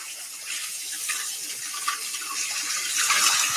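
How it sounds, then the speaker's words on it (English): Water runs steadily from a kitchen tap into the sink while hands are washed, a soft continuous splashing stream that swells slightly toward the end, with no talk over it. "Let me wash my hands."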